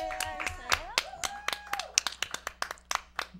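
Scattered audience clapping at a local TV show broadcast, individual sharp claps irregular and fairly close, with a brief voice and a sliding tone mixed in, moderately quiet overall.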